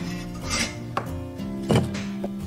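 A knife slices radish on a cutting board, giving a few separate crisp chops and taps at uneven intervals, close and fairly quiet, with no talking.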